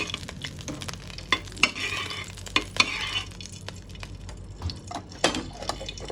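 Ghee heating in a cooking pan for Kerala semiya payasam, with a soft steady sizzle and repeated stirring scrapes and clinks close by, no talking.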